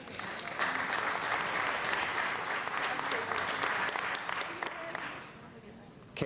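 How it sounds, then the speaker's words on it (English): Moderately distant applause rises from attendees at a city council meeting, a dense patter of many hands that holds steady for several seconds before tapering off near the end. "please, if you'll join me in applauding these folks as I recognize them"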